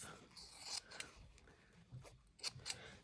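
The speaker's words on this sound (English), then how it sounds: "And let's cut this apart. Let's cut the tag off." Scissors snip through thrifted clothing in a few short, crisp cuts with quiet gaps between them, close and faint.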